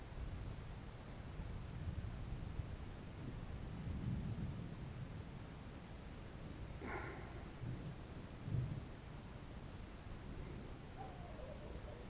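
Thunder from a lightning storm rolls as a low, distant rumble, faint and steady under a hiss of wind and rain, with one brief louder crack partway through.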